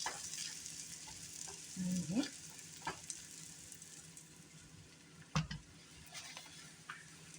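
A seaweed mixture being stirred in a pan, a soft steady sizzle with a few light scrapes and clinks from the spoon, fairly quiet and close.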